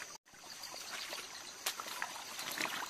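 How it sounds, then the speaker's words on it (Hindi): Shallow water runs over stones in a forest stream, a steady close trickle and babble with brief splashes, heard alone with faint insect chirps in the background. "यहाँ सामने से जो पानी बह के आ रहा है वो देखिए"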